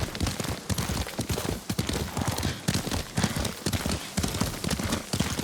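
Horse hooves clip-clop in a brisk, steady rhythm in the video game Ghost of Tsushima, close and clear throughout with no talking.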